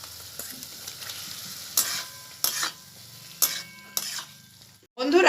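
Potato mushroom dumplings fry in a pan with a low crackling sizzle, broken by four sharp utensil scrapes and knocks against the pan and a louder clatter at the very end.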